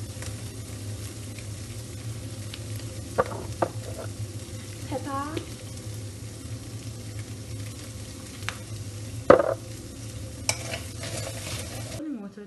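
Chickpeas and leftover rice fry in oil with a steady, close sizzle, punctuated by scattered spatula scrapes and knocks against the pot, the loudest clatter near the end.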